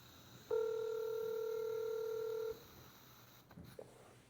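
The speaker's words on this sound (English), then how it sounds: "Why is a dead man's phone ringing?" A single steady electronic telephone ringing tone sounds for about two seconds in a quiet room, followed by faint clicks and rustling.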